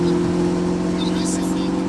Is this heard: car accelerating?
yes